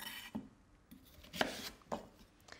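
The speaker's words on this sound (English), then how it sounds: "Just with a sharp knife, cut them in half and then into quarters." A sharp knife slices sweet potatoes into halves and quarters on a board, giving four quiet, separate chopping thuds with short pauses between them, close and with no talk.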